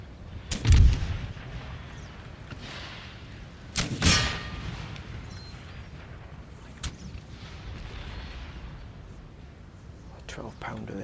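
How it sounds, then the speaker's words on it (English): Cannon blasts from a 12-pounder field gun in the Empire Total War Battle for Dresden: two heavy booms a few seconds apart, then fainter distant shots amid battlefield ambience, with someone talking over it. "A 12-pounder there is still firing."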